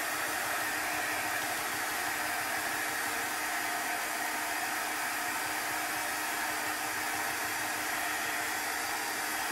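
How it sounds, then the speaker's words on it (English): A heat gun blows with a constant, hissing airflow roar, steady and close for the whole stretch, with no voices. "so that is why I'm using the heat gun."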